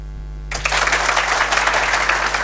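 Conference audience at an open-source monitoring talk clapping loudly together, a sudden burst of dense applause cutting in after a quiet hum and continuing strongly to the end.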